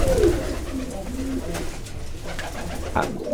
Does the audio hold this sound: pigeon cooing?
yes